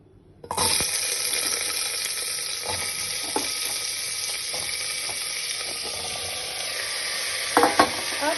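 Cumin seeds sizzle in hot ghee, a loud, steady crackling hiss that starts abruptly and holds throughout, with a few sharper pops and clinks near the end.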